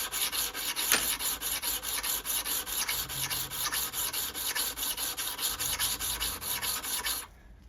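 A blade from a Sovereign BL100 garden shredder is sharpened by hand, with a steady rhythmic rasping as a file or sharpener strokes back and forth across the metal, close and fairly faint, ending abruptly.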